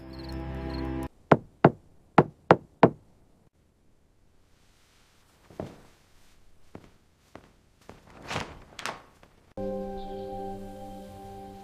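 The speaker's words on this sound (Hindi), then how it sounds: "और मेरा दरवाजा क्यों खटखटाया है" A door is knocked on five times in a quick, loud, sharp series, followed by quieter shuffling and a few softer thuds and movements before a steady hum returns, with no talking.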